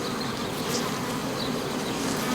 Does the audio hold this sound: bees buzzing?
yes